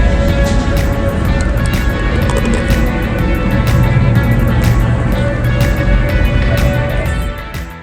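A Shelby GT500KR cruises on a Tennessee highway, its steady engine drone and road rumble filling the cabin, with a constant tonal hum and intermittent ticking clicks over the continuous noise.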